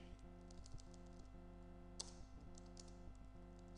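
Soft, rapid typing on a computer keyboard while code is written, steady light clicks under a constant low electrical hum.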